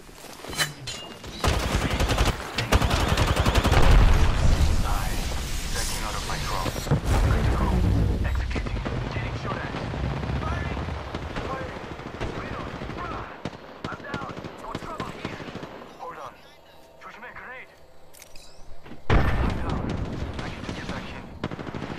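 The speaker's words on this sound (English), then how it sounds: "I'm taking fire." Heavy sustained gunfire and explosions in the battle royale shooter Apex Legends, loud overlapping bursts and booms that fade into sparser shots, with players talking over the fight.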